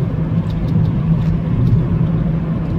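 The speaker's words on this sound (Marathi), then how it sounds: "मग आता जरा गाडी खेचायलाच घेतले," A CNG car cruising on a highway toward Akkalkot, heard from inside as a steady, close engine and road rumble with a low hum, no voices.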